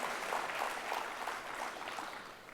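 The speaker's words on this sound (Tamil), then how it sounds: "அதுக்காகவே இதை ஏற்பாடு செஞ்சவங்களுக்கு நம்ம ஒரு பெரிய கைத்தட்டலை நம்ம பாராட்டுக்களாக தந்துடலாம்" Faint, distant applause from a crowd honouring the organisers of a talk, a soft continuous patter of many hands clapping alone without speech.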